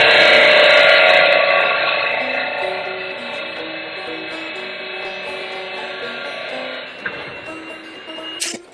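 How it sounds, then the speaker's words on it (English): A power grinder works a small nub off a metal part for a Structo toy truck's front wheel, axle and hub, a loud, steady, buzzing whine that holds for several seconds, slowly eases, then stops with a brief clatter at the end. "Now let's get a grinder and grind off that little nubby bit."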